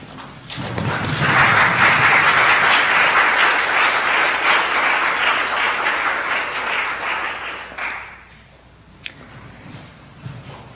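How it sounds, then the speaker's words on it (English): A nursing class at the University of Tennessee at Chattanooga bursts into sustained applause for the people who helped them, with loud, dense clapping and a few thumps that swell, hold for several seconds, then fade out. "Class, let's stand up and give these people a big thank you and round of applause"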